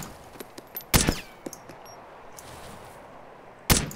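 Sharp gunshots in the Arma 2 DayZ Overpoch game ring out: a couple of loud isolated cracks seconds apart, with fainter smaller reports between them.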